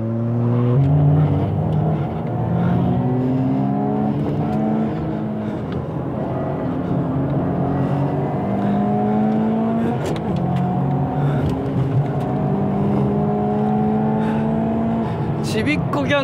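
A Toyota GR Yaris with a 1.6-litre turbo engine races hard around the Tsukuba circuit in an AWD battle, its engine climbing through repeated rising revs and gear shifts, loud and continuous, with voices talking over it.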